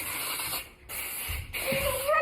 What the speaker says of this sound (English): I use this texturizing spray